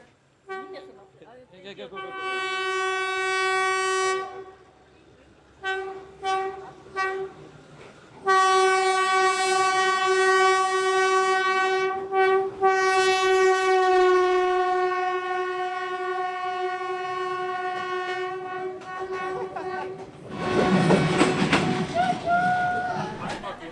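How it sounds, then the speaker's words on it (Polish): A train in Vietnam rumbles past up close for a long stretch, its horn blaring in repeated long blasts, ending with a loud burst of rushing wheel and wind noise. "jak pociąg przejeżdża obok ciebie przez 15 sekund"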